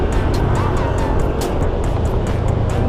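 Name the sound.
motorcycle passing by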